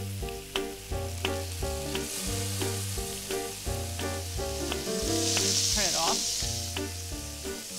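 Green olives and lemon zest sizzle in olive oil in a home kitchen pan, a soft steady crackle under repeated clinks and scrapes of a utensil stirring at a regular pace.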